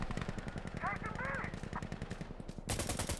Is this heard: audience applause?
no